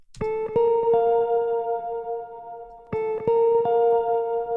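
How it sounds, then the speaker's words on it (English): Sustained electric guitar notes drenched in Guitar Rig effects, two struck chords ringing out with long shimmering decay, played alone and fairly loud. "So let me go ahead and solo the guitar that I played."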